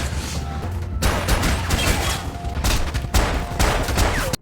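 Gunfire in a drama fight scene rings out in loud, dense volleys of rapid shots with brief pauses between the bursts.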